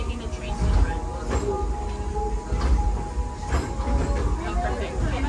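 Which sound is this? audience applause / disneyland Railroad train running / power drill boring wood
disneyland Railroad train running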